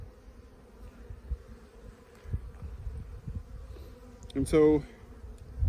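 Honey bees buzz around an open hive during the first spring inspection, a steady low drone close by, while a person says a few words near the end.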